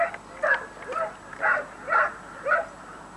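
A dog barks and yips in a run of five short, fairly close calls at a carp fishing spot in the Canary Islands, with a steady low background hum.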